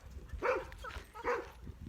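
A dog barks twice outdoors at moderate distance, two distinct woofs about a second apart over faint background noise.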